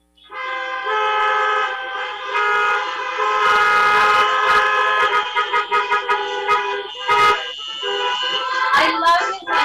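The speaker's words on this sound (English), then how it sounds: "I think that deserves some honks" Car horns honk repeatedly and loudly at a drive-in, overlapping toots in sustained blasts and short bursts, with a crowd's voices and cheering faintly mixed in.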